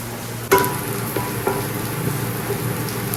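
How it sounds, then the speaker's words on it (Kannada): Onions and green chillies frying in a pan make a steady, moderate sizzle, with a sharp knock at the start and a few light scrapes of stirring through it. "ನೆಕ್ಸ್ಟ್ ಇದಕ್ಕೆ ಸ್ವಲ್ಪ ಅಂದರೆ ಒಂದು 4-5 ಕಾಯಿ ಮೆಣಸನ್ನು ಹಾಕಿ ಚೆನ್ನಾಗಿ ಫ್ರೈ ಮಾಡ್ಕೊಳ್ಳಿ"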